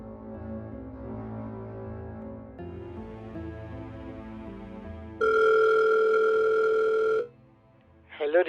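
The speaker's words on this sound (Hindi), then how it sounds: "उनको कॉल लगाती हूँ" A telephone call being placed in a Hindi film scene, with a low hum and tones first, then a loud steady ring tone for about two seconds that cuts off abruptly, followed by a brief voice.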